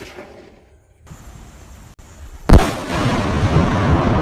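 A Falcon 9 sky shot firework goes off at a Diwali crackers test. A quiet hiss leads up to a sharp pop, then a loud blast and a rumbling roar of bursts.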